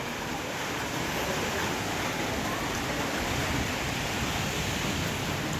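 Heavy rain pours steadily over a village, a dense, unbroken hiss that stays loud and even throughout with no pauses or distinct drops standing out.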